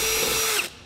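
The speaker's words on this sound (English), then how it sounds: "I'll step up drill bit sizes, drilling each of these holes out until I've reached the final size" A power drill steps up bit sizes while boring holes through a 2008 Ford F-450 truck bed for a gooseneck hitch, one short steady whine that cuts off abruptly.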